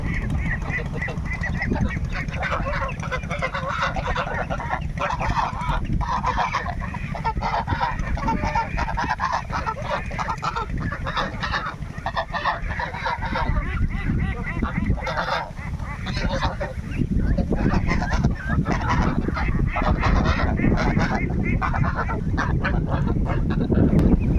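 A flock of domestic country ducks on a farm quacks and honks without pause, many birds calling over one another in a loud, continuous, close chorus.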